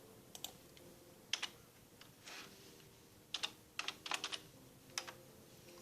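Quiet typing on a computer keyboard: scattered single keystrokes and short bursts of clicks with brief pauses between, soft and close in an otherwise still room.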